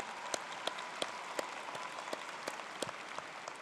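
A large commencement audience at a community college applauds student achievements, a faint, distant wash of steady clapping with a regular series of sharp, louder claps from someone nearer.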